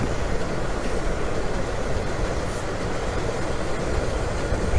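White train rolling past near a tree garden, giving a steady, loud, broadband rumble that holds level throughout with no voices.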